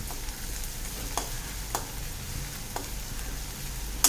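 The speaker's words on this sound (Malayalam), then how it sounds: "നല്ലോണം വഴറ്റിയെടുക്കണം." Onions sautéing with ginger garlic paste in a pan for pumpkin masala, a soft continuous sizzle broken by several sharp scrapes and taps of a stirring spoon against the pan, close and without talk.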